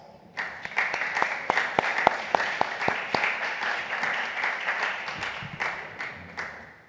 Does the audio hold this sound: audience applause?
yes